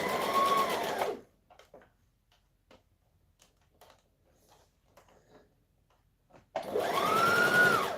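An overlocker sewing machine stitching fabric for a blouse runs in two loud, fast whirring bursts at the start and end, with quiet fabric handling and soft clicks between them.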